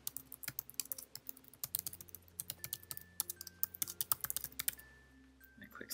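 Login details are typed on a computer keyboard as a run of sharp, distinct key clicks in an irregular rhythm, close and moderately quiet over a faint background hum, with no talk.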